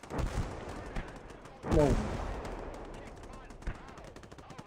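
Mortar rounds striking a village in a Vietnam War video game, a few heavy booming blasts with crackling gunfire between them, one big impact standing out; a voice briefly exclaims.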